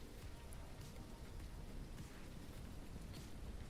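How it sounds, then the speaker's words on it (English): Steady rain falls in the Ranch Simulator video game, an even, continuous hiss of downpour at low level with no talk over it. "Oh, it's raining. My concrete will be ruined."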